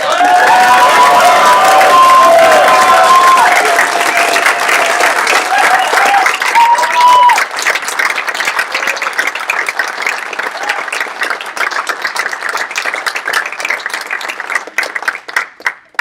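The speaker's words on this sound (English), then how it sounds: "I just want your most enthusiastic clapping, hooting, and hollering all at once" An audience at a climate hackathon finale applauds with sustained clapping, cheering and whooping, loud and dense at first and then thinning into scattered claps before fading out.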